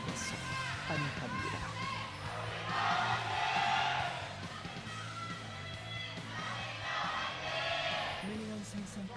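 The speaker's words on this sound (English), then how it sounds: "Both these teams have big crowds out there." A packed arena crowd roars at an LCK Summer Split esports match between Afreeca Freecs and Hanwha Life at Nexon Arena, swelling into two loud waves of cheering beneath steady commentator talk.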